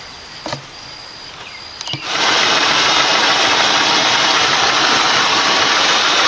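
A car engine runs steadily and loudly after a new fan clutch, water pump, hoses and belt were fitted, with a couple of brief clicks before it settles into a continuous even drone.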